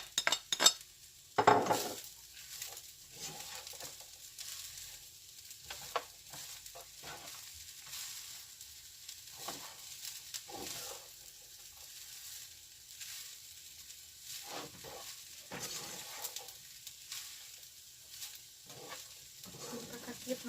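Beef chowfan fried rice stir-frying in a pan as frozen corn goes in: a soft, continuous sizzle broken by scraping, clinking strokes of a utensil against the pan at irregular intervals, fairly close and quiet.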